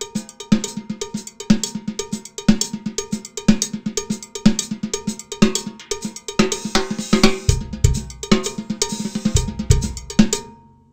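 A paradiddle sticking is played as a Latin figure on a kit with cowbell, repeated in a steady, accented rhythm. Near the end it grows fuller, with deeper drum hits, and no one talks over it.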